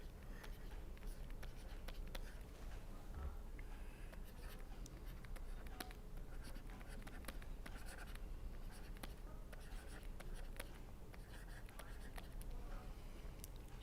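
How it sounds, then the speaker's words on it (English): Chalk or marker scratches across a board in a lecture on radar receiver detection, a quiet, continuous run of short strokes and taps heard close in a calm room. "first let me write"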